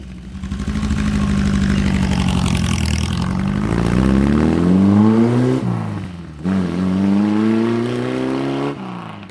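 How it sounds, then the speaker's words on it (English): A Porsche 550 Spider replica approaches and passes close by, its engine rising in pitch as it accelerates, then dropping away before a second louder swell, loud and alone without talk. "Porsche 550 Spider replica scaring the birds again there."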